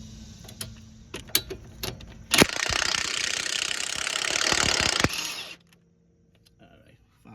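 Metal clicks and taps from loosening a sway bar link nut on a Mazda CX-5 with a vice grip, then nearly three seconds of loud, steady mechanical rattling and grinding before the work falls quiet.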